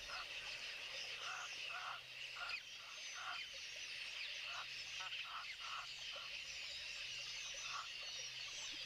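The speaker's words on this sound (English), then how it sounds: "here are our noisy ducks" Ducks call repeatedly outdoors in a nature setting, a steady run of short honking quacks at a moderate distance over constant background noise.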